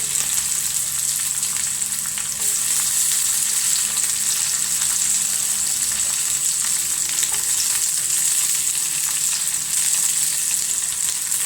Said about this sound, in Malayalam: ഞാനൊരു ചീനച്ചട്ടി അടപ്പത്ത് വെച്ച് എണ്ണ ഒഴിച്ചിട്ടുണ്ടെങ്കിൽ അതിനകത്തേക്ക് നമുക്ക് ഉള്ളി, കറിവേപ്പില ഇട്ട് കൊടുക്കാം